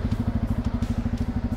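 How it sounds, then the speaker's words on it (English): A Bajaj Pulsar N250 motorcycle idles close by, its exhaust putting out a steady, rapid, even thumping pulse with no voices over it. "It's a signature Pulsar exhaust note."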